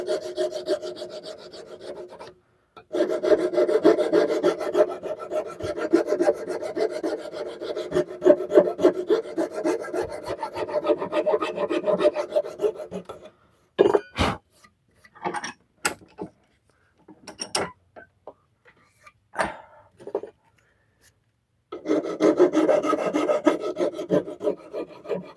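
A file rasps a chamfer onto the end of a hatchet handle in long continuous scraping strokes, close and loud, pausing for a stretch of scattered knocks and handling before the filing resumes.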